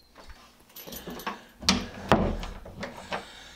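A bathroom door swings open in a cramped room where it barely clears the toilet, giving a couple of close wooden knocks and rubbing scrapes amid low handling noises, with no talk.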